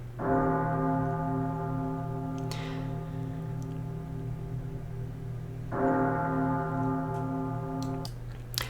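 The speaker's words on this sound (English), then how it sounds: "I thought church bells would work really well for that" Two deep, sustained bell strikes ring out a few seconds apart, each tolling and slowly decaying, with a faint ticking underneath.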